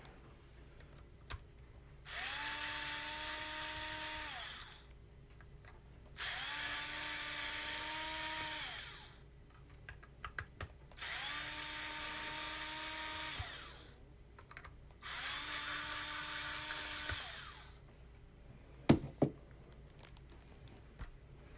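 Cordless drill backing screws out of a pump during a rebuild: four separate whirring bursts of a few seconds each, evenly spaced, with quiet handling clicks between them.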